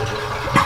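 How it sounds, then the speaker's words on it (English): A toilet flushes after its broken flange has been repaired, a short rush of water that swells sharply near the end, close and loud with no talking. "We're gonna give it a flush"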